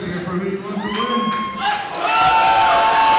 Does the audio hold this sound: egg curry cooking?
no